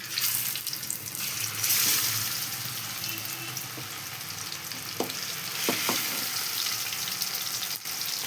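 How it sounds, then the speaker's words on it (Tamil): Anchovies frying in hot oil give a steady, loud, close sizzle that runs throughout, with a few sharp crackles and pops near the end and no talking. "எண்ணெய் காஞ்சிட்டு இந்த மீனை போட வேண்டியதான்"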